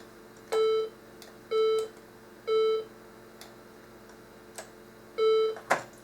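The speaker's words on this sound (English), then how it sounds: "This only has beep in it though, so it's not much good." A Macintosh SE/30 plays its alert beep from the sound control panel: four short, identical electronic tones spaced about a second apart, clear and moderately loud over a faint steady hum, with a small click near the end.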